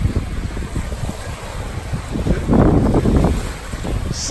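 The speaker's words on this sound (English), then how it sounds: "A little bit windy." Gusty wind rumbles against the microphone on a sandy beach in Maine. The buffeting is low and steady and swells into a stronger gust in the second half, with no talk.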